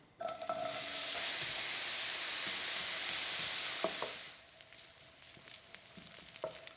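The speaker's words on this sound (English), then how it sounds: "with my pan nice and hot and some olive oil, I'm just going to gently fry these" Onions gently frying in olive oil in a hot pan for Maltese baked pasta, a loud, even hiss of sizzling for about four seconds that then drops to a quieter crackle with faint clicks.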